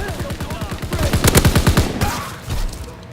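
Rapid gunfire from Call of Duty: WW2 multiplayer, a fast run of loud evenly spaced shots over about two seconds, then a short pause and a few more blasts, with no talk.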